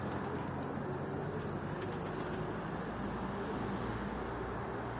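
Pet pigeons flying out after a week grounded by a storm, a steady wash of wing flutter and faint cooing under constant outdoor background noise, with no talking.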